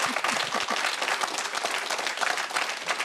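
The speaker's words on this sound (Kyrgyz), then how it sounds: "кол чаап коебуз." An audience at a youth employment forum-theatre performance in Kyrgyzstan claps together, a steady, moderately distant round of applause with no speech.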